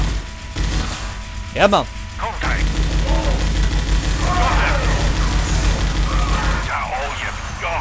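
Video game gunfire in Scourge Outbreak: a loud, rapid burst of shots with sharp cracks, followed by dense mechanical clatter and rumbling action, while a voice briefly speaks over it.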